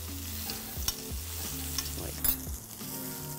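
Steak fries in oiled pans with butter, garlic, thyme and rosemary, sizzling steadily and close up while utensils clink and stir now and then. A voice briefly speaks over it.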